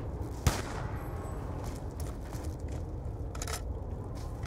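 Gunfire in a round-based zombie-survival video game: a sharp shot near the start, then quieter scattered firing and game noise in the background, fairly low in level and without speech.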